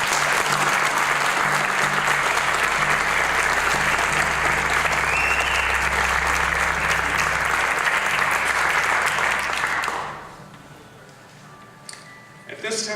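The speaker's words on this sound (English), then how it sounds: "Let's give them a round of applause." Audience applause fills a school induction ceremony hall, loud and sustained for about ten seconds before fading quickly into quiet room tone with a few small noises.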